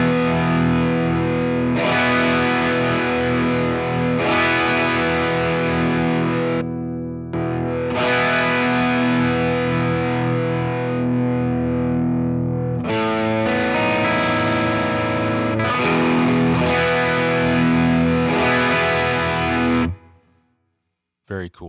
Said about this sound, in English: Let's fiddle around with some different drive settings here.